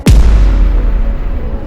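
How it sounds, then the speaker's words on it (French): A single huge anime explosion erupts from Shigaraki's apocalyptic disintegration, one sudden loud blast followed by a deep, sustained rumbling roar that slowly fades. "Une explosion cataclysmique."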